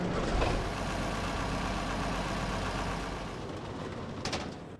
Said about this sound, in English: So this is the Versatile 365. Let's go ahead and turn that engine over.